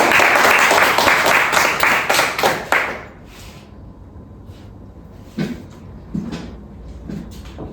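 Classroom applause from students during a physics lesson on momentum and impulse, a dense burst of many hands clapping for about three seconds that cuts off sharply, followed by a quiet room with a few scattered knocks.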